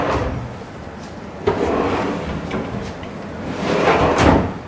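A kitchen vegetable drawer, divided inside and ventilated, slides open and shut with a couple of sharp knocks and rolling runner noise, close and fairly loud.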